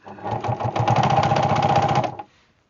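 Baby Lock Hagane sewing machine running fast, a rapid rhythmic mechanical whir and needle chatter for about two seconds, close and clear, then stopping abruptly.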